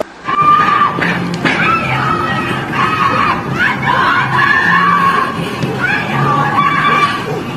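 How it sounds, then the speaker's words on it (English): Screaming comes from inside a house, shrill and loud, with several high wavering cries rising and falling almost continuously and a noisy, crowd-like wash underneath. "You can hear screaming from the house."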